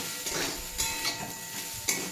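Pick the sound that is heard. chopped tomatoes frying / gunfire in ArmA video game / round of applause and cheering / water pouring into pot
chopped tomatoes frying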